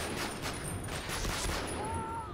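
Continuous distant gunfire and muffled explosions from the World War II shooter Medal of Honor Rising Sun, a dense rumbling battle din with scattered reports and no distinct single shots.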